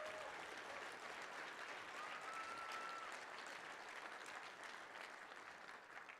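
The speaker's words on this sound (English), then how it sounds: "Please give them a big round of applause." An audience at a SAINTCON 2022 hacker conference applauds staff members, a steady, moderately distant patter of clapping that lasts throughout and fades slightly at the end.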